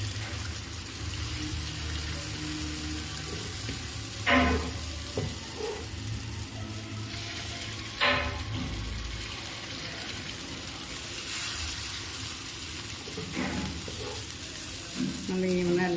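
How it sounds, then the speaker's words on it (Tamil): Paniyaram batter sizzling and frying in the hollows of a paniyaram pan, a steady close hiss with occasional louder crackles and scraping stirs, no talk over it. "ஒவ்வொரு குழியிலையும் பணியாரத்தை மாவை ஊற்றிக்கலாம்."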